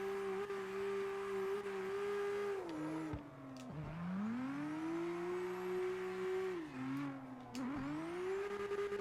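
A Nissan Skyline R34 drift car in CarX Drift Racing holds a loud, steady engine drone that dips and swoops as revs fall and climb again between gear changes, with continuous tire and engine whine throughout.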